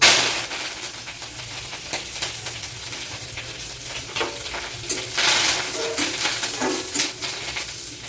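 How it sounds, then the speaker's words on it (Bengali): Curry leaves fry and crackle in hot oil in a pan, a steady close sizzle with scattered sharp pops and light clinks of a spatula stirring, no voices. "এইবার পাতাগুলো ভেজে নেব"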